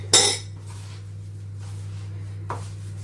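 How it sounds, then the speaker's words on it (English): A lid snaps onto a cinnamon container in a kitchen while apple crumble is being made: one sharp clicking clack, then a small faint tap near the end, with a steady low hum underneath. "I have to put on a lid on my cinnamon"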